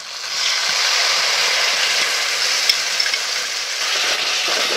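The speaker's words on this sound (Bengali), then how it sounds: "এবার এটাকে ভালো করে মিশিয়ে নেব" Potatoes and pointed gourd cooking in a pan with cashew-poppy paste and a splash of water, a loud, steady hiss of frying with a faint spoon scrape now and then.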